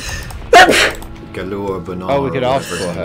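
A single sharp sneeze bursts out close to the microphone amid casual conversation while playing Morrowind, followed by continued talking.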